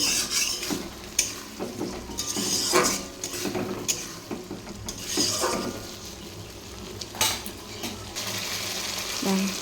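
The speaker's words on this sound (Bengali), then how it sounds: "ভালো করে মশলাটা কষিয়ে নেব" Spice paste with turmeric sizzles gently in a pan with fried potatoes while a utensil scrapes and clinks against the metal in repeated bursts, close and moderately loud.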